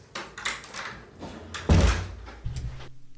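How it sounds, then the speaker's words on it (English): A bathroom door opens with a series of soft handle and latch clicks, then a heavier thunk as it swings, close and indoors in a quiet room. "when I open the door"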